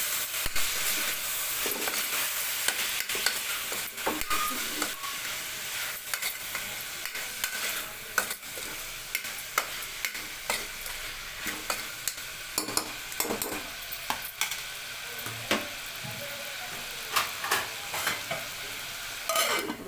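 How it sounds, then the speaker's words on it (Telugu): A cluster bean and tomato curry with ginger-garlic paste is stirred in a pan, giving a long stretch of steady sizzling with repeated scraping strokes of the spoon, close and continuous, with no talking. "కొంచెం ఇవన్నీ వేసుకుని ఒకసారి అయితే ఇలా కలుపుకోవాలి"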